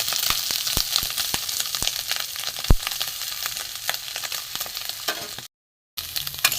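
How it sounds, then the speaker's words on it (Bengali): Fish roe and onions sizzle in oil in a wok, a continuous close frying hiss broken by sharp stirring knocks and clatters, with a brief gap of silence near the end. "পেঁয়াজ দিয়ে ডিমটা মোটামুটি ভাজা হয়ে গেছে"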